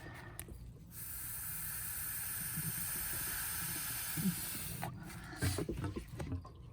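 Compressed air blowing through the engine lines of a 2006 Tige 22ve boat, a sustained close hiss lasting several seconds, ending with sputtering bursts.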